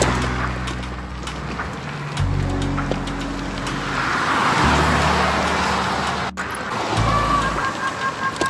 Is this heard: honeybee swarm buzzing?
no